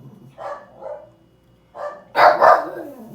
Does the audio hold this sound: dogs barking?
yes